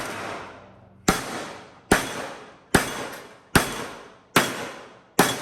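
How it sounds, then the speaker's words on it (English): Seven sharp metallic hammer blows on an 18 gauge sheet metal panel at a steady pace, each strike ringing briefly and decaying before the next. "And then start hammering the same way, bring it here and go out."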